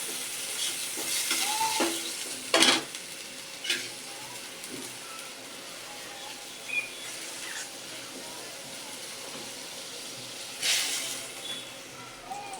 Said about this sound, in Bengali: এই যে পেঁয়াজ ভাজা চলতেছে।